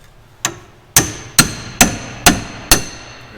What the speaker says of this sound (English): You can use a pickle fork to pull that tie rod end out.